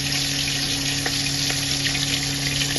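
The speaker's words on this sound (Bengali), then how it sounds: "কড়াতে কিছুটা তেল দিয়ে দিয়েছি, এখানে নুন হলুদ মেখে নিয়েছি মাছটাতে। এবার ভেজে নেব" Bhetki fish frying in oil in a wok, a steady broadband sizzle with a constant low hum running under it and a few faint clicks, with no talking.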